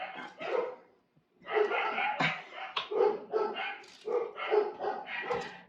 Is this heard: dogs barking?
yes